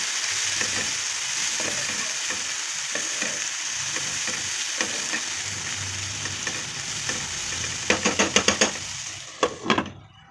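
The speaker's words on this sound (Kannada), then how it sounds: "ಇದು ಸ್ವಲ್ಪ ಹಾಫ್ ಬಾಯ್ಲ್ ಆಗೋವರೆಗೂ ಈ ಥರ ರೋಸ್ಟ್ ಮಾಡ್ಕೊಳ್ಳೋಣ ಎಣ್ಣೆಲೆ" Vegetables sizzling and frying in oil with tomato and soy sauce, a steady crackling hiss, with a run of sharp spatula scrapes and taps near the end.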